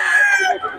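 A rooster at a roadside poultry sellers' spot in Bocaue crows once, a short loud strained call that trails off quickly.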